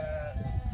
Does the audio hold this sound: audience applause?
no